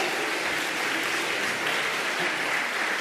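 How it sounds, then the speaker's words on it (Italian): A crowd applauds the winner of a math-themed event, a steady, dense wash of clapping that holds at an even level throughout with no pauses. "Grande applauso per il nostro vincitore!"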